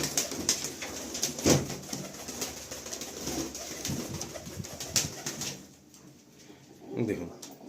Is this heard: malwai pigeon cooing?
yes